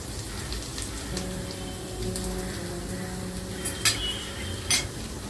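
Semolina appe cooking in an appe pan with peas, beetroot and carrot, a steady soft sizzle and crackle throughout, with a few brief louder pops toward the end.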